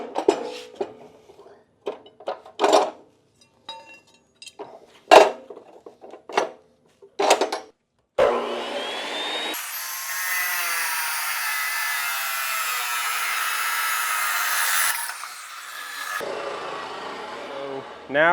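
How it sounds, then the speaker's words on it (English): A chop saw cuts metal tubing for a golf cart fishing rod holder, a loud, steady grinding whine that runs for several seconds after a stretch of clattering and talking. "Going over to the chop saw."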